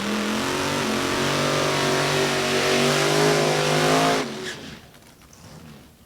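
Two hefty drag racing cars launch down the track at a Top Sportsman round, their engines roaring loud and close for about four seconds before the sound drops away as they pull off into the distance.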